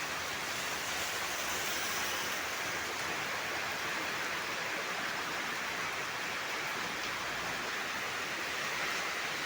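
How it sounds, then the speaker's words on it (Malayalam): Heavy, steady rain with little wind, a dense uniform hiss of falling water that stays constant throughout, moderately loud and without voices. "കാറ്റ് കുറവാണ്, പക്ഷെ നല്ല മഴയാണ്."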